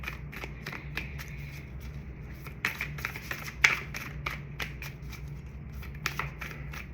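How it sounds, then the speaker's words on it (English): Ganesh oracle cards are shuffled and drawn by hand, producing a close, quiet series of crisp riffling flicks and soft slaps at an uneven rhythm. "Let's get one more card from the great Ganesh."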